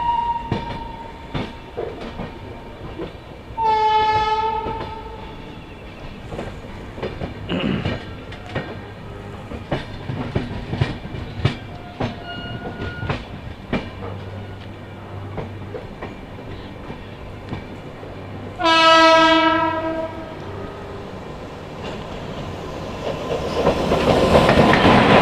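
The Indore–New Delhi Intercity Express passing near Nizamuddin in Delhi, with rhythmic clacking of wheels over rail joints, two loud horn blasts and rumbling that swells toward the end.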